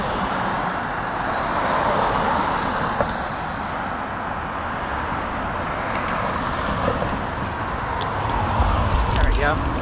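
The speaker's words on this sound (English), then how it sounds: "A lot of traffic." Steady wash of road traffic passing close to a cyclist on a long bike commute, a continuous broadband rumble of vehicles with faint wind noise and small clicks throughout.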